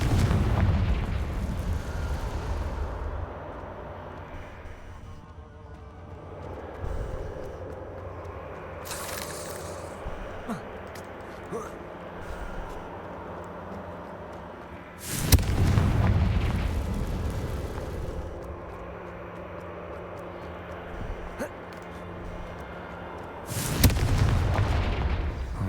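Fiery Confringo spell blasts in Hogwarts Legacy: separate loud explosive bursts spaced several seconds apart, each with a sharp crack and rumbling decay over a quieter ambient bed.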